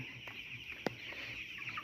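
Fourteen-day-old broiler chickens on a poultry farm cluck softly over a steady high chirping flock din, with one sharper, louder call standing out near the middle.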